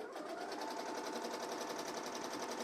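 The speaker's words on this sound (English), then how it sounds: "Puts down the tack down stitch, and then it's gonna frame out." An embroidery machine sews a tack down stitch on merchandise, a fast, even mechanical chatter of needle strokes running continuously at low level, heard alone.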